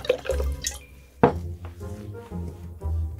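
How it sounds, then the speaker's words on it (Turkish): Water poured into a container of cooking oil in a kitchen experiment, close and fairly loud, with splashy glugs and drips over a few seconds. "Biraz da su dökeyim."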